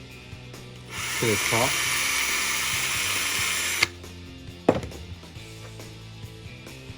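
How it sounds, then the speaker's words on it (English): A power drill whirs steadily for about three seconds boring into plasterboard, then cuts off; a brief voice and a sharp knock follow. "I'll drill a hole a little bit"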